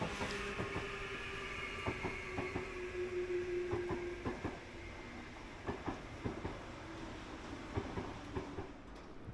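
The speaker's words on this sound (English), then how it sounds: "even a few international long-distance services call here, such as this Eurocity train bound for Warsaw." A Eurocity long-distance train bound for Warsaw moves through a station with a sustained rumble, rhythmic clacking over rail joints and a brief wheel squeal partway through, heard at moderate distance.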